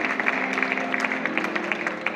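Congregation applauding at a church wedding, steady dense clapping that holds at full volume for the whole stretch without stopping.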